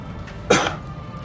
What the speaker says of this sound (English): Had a quick little coughing fit.